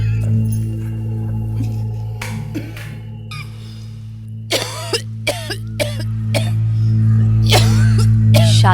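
A woman gives several short dry coughs, sharp separate bursts close to the mic over a steady low hum, with a bit of talk and clinking in the background.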